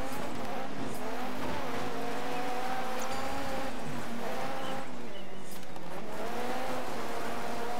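A rally car drifting in Dirt 3, its engine droning and wavering in pitch as the tires scrub and squeal through a slide, steady and fairly close, with faint talk underneath.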